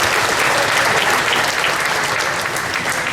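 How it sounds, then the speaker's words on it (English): A festival crowd claps in a full, even burst of applause, loud and close, holding steady for a few seconds. "We can give her a good round of applause."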